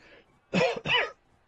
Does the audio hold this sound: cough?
yes